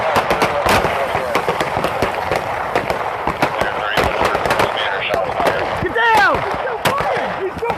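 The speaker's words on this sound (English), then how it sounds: "Shots fired! Shots fired!" Gunfire erupts during a police shooting, a rapid series of sharp, loud cracks and bursts with shouted voices among them and some rising squeal-like tones near the end.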